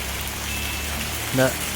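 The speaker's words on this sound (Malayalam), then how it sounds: "മഴ വീണ്ടും നല്ലപോലെ തുടങ്ങി" Steady rain hisses across a surface throughout, with a brief louder sound near the end.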